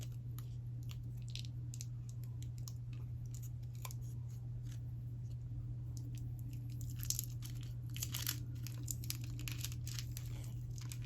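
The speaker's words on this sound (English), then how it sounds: "now I'm going to come in here with my pretty tape, and I'm just going to go ahead and wrap it around to create a pretty handle" Decorative tape is wound tightly around a paintbrush handle, giving soft crinkling and brief sticky peeling sounds over a steady low hum, close and fairly quiet, with no talking.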